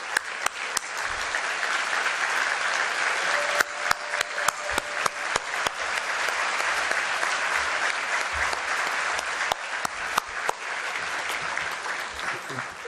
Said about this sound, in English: please give a round of our applause to our public officials